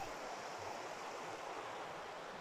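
River water flows in a soft, even hiss beside a bridge in Ireland's Slieve Bloom Mountains, quiet and continuous, with no voices over it.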